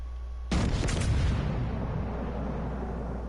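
Torpedoes exploding in a PS4 naval warfare game, a sudden loud blast with rapid crackling secondary bursts, then a long rolling rumble fading slowly over a steady low engine drone.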